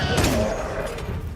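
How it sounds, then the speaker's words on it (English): An explosive launcher firing in Monster Hunter Wilds, a brief loud booming blast with a rumbling tail, heard alone with no talk. "A little explosive launcher?"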